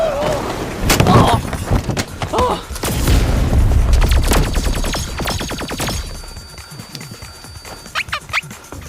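A deep explosion booms and rumbles amid a chaotic burst of crackling and thuds, then fades into scattered rattles and short sharp noises.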